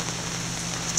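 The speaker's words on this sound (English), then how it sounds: "And it's apparently raining." Rain falls outdoors in Florida, a steady, even hiss of drops with no voices.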